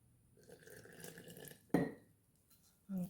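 Water poured into a wide-mouth jar of flour while mixing a sourdough starter, a brief splashing pour standing out near the middle, followed by a short clink of glass, close and moderately loud.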